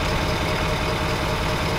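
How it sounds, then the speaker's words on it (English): A pickup truck used for snow plowing idles with a steady, even engine rumble that stays continuous and fairly close throughout, with no talking. "I think this truck sounds just as good."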